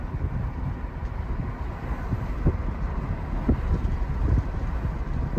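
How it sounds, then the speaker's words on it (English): A car rolls along the Yosemite Valley floor, a steady low road and engine rumble with wind buffeting the microphone and a few soft thumps, no one speaking. "So this is just us driving in through the valley floor, the Yosemite Valley floor"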